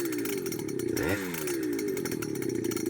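Custom goped fitted with a small two-stroke engine and clutch, ridden on a long road trip, makes a loud continuous buzzing rev that dips and climbs again midway, close and steady throughout.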